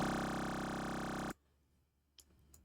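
Classic brostep bass made in Massive with a negative wavetable bend and pitch dropped 24: a loud, dense, buzzing sustained synth tone cuts off abruptly after about a second, leaving quiet background with two faint clicks.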